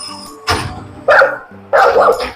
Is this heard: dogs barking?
yes